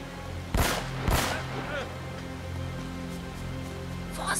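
Enemies with laser sights fire guns in the Uncharted: Drake's Fortune video game: two sharp, loud shots in quick succession, then quieter background game noise under talking voices.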